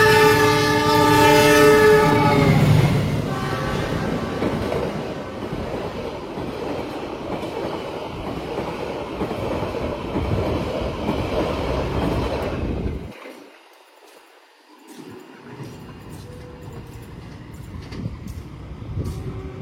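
A train horn blares at the start as the Mutiara Selatan passenger train rumbles past with rolling clatter, briefly quieting near the end before the noise returns.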